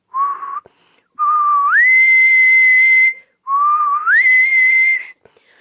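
Three loud, close whistle blasts, the second and third sliding up in pitch and held, like a ship's whistle imitated by someone whistling.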